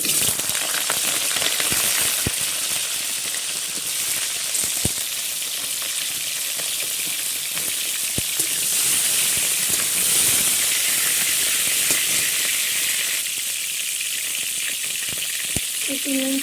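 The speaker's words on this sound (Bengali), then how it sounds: "এবার আমি ফুলকপিগুলো নেড়ে নেব ভালো করে ভেজে নেব ফুলকপিগুলো" Cauliflower pieces fry in hot oil in a pan for a vegetarian khichuri, giving a loud, continuous sizzle and hiss with occasional scrapes and clinks of stirring throughout.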